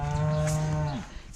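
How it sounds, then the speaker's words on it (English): A cow on a pasture farm lets out one long, low moo at close range that rises and then drops off sharply near its end, heard alone without any talking. "excuse the cow"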